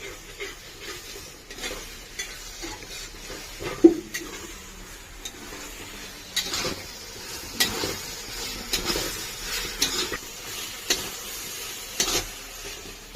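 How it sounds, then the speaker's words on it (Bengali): A spice paste of ground dried red chillies fries in a pan for Bengali mutton curry, with a soft sizzle under intermittent spoon scrapes and light clinks, fairly quiet and close, no voices. "মশলা তো খুব ভালো করে কষে নিয়েছি"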